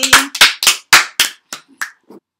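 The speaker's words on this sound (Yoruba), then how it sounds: "Ẹ pàtẹ́wọ́ fúnra yín." Children clap for themselves in a short ragged run of about eight sharp claps, close and loud, tapering to a few softer scattered claps at the end.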